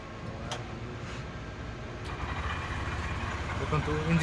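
A 2025 black Honda Shine 125cc motorcycle idles nearby, producing a low, steady, fairly quiet engine murmur that grows slightly louder toward the end.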